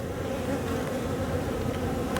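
Honey bees buzzing at an open hive during a late-December inspection, a dense steady drone from many insects close by, continuous with no voices.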